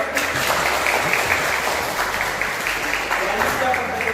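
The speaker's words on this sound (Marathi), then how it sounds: "याच्याकरता टाळ्या" A crowd at an NSS camp claps in steady, dense applause that runs loud and unbroken for the full stretch.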